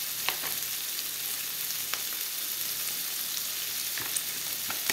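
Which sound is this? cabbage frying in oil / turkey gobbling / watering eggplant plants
cabbage frying in oil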